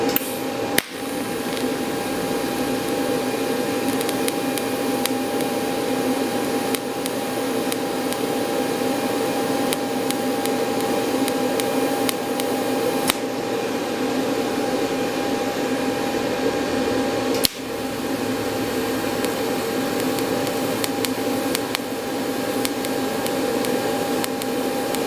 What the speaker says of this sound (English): AC TIG is for aluminum. All right, so I'm going to set the amps at around 50